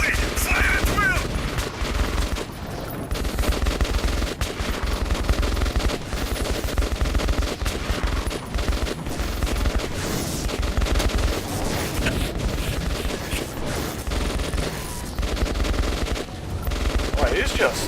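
Dense gunfire from the Metro 2033 Redux video game: rapid automatic bursts and overlapping shots crackle continuously and loudly from start to finish, a sustained firefight with no pauses.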